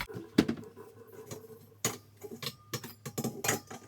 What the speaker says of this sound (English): We are going to transfer the potatoes now into the jar